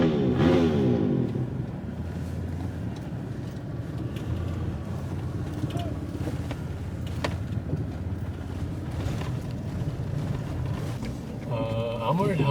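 A Chevy Suburban 2500 4x4 engine drones steadily while off-roading in four-wheel drive, a loud continuous rumble with wind buffeting and bumps, someone talking over it.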